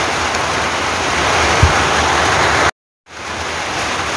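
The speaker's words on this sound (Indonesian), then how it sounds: "turun hujan deras ya" Heavy rain pours steadily in a dense, even broadband hiss close by, with a brief dropout near the end before the downpour resumes.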